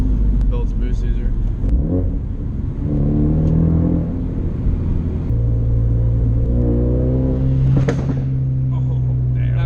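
A 2019 Ford Mustang GT 5.0 PP2 V8 pulls hard on the Tail of the Dragon mountain road, its deep engine drone rising steadily from inside the cabin while occupants talk over it.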